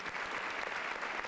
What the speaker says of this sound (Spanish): El aplauso para todos los maestros que hoy